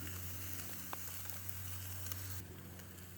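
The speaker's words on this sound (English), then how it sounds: "lamb chop right over the grill, just like that." A lamb chop sizzles softly over a home-made portable wood grill, a steady fine crackle with occasional pops and a low hum in the background.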